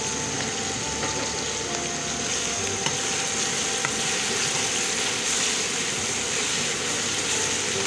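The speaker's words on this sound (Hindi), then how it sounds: "प्याज फ्राई होगा" Onion frying in a pan for an aloo palak methi dish gives a steady, dense sizzle that holds evenly throughout, close and moderately loud, with no talking over it.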